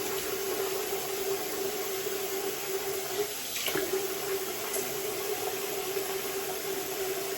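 Tap water runs steadily into a sink as a face is splashed, a continuous close rushing hiss with a brief splash partway through and no talk.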